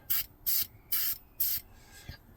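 Four short, evenly spaced hissing bursts of spray paint lay a color coat onto a 1/25 scale '71 Demon model car, each loud and close, followed by a fainter fifth puff.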